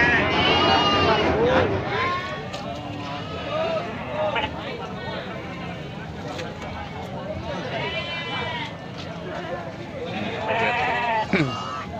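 Goats bleat repeatedly at a busy Indonesian livestock market in Jonggol, several loud nearby calls over constant crowd chatter and people talking.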